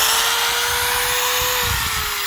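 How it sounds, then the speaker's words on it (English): A power drill runs off a DIY solar generator, a loud, continuous high whine with a steady tone that dips slightly near the end, heard close up with no talking. "let's test out and see if it'll run the drill"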